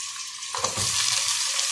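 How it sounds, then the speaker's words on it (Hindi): Half a kilo of beef drops into a pan of browned onions for bhindi gosht curry, and a loud, close sizzle bursts up and holds steady. "ये मैं इसमें बीफ ऐड करूंगी"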